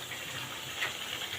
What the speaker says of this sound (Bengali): আমি একটু ঝোল দিয়ে নিব।